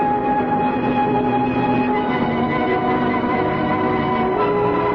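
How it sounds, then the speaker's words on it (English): A train riding on rails, used as a sound effect in a 1980 CBS Radio Mystery Theater drama: a loud, continuous rolling rumble with steady tonal whine, alone and unbroken. "I want to stay right here on this train and go wherever it's going."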